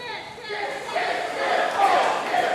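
A wrestling deathmatch crowd packed around the action like a mosh pit, a loud, rising wash of cheering and shouting voices.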